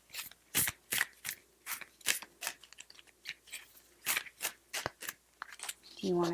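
Repeated crisp riffling bursts of cards being shuffled, about a dozen quick ruffles in an irregular rhythm, close up, with a brief voice at the end.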